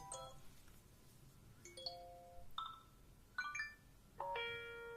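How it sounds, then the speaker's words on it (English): A series of short iPhone 5 iOS 7 alert tones, each a few bright notes, playing one after another at modest volume over a quiet background. "Here we also have the alert tones that is new."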